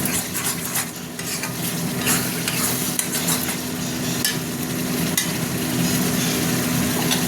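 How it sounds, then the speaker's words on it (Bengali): Spice paste for a fish curry frying in oil in a pan on a gas stove, with a steady sizzle and continual scraping of the stirring spoon, close and loud, no talking. "মশলাটা কষা হতে থাক।"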